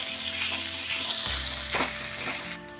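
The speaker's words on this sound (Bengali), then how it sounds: "এইবার সেদ্ধ করে রাখা আলুগুলো এর মধ্যে দিয়ে দিলাম। একটু স্ম্যাশ করে নিচ্ছি খুন্তি দিয়েই।" Boiled potatoes sizzle in hot oil with nigella seeds, a steady close frying hiss with a few scraping stirs and mashing strokes from a spatula partway through.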